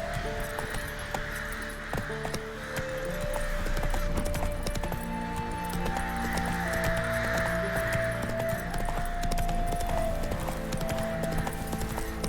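Roach, a horse in The Witcher 3, galloping through a bog with a steady, rhythmic clip-clop of hooves, jangling tack and faint background ambience, no speech.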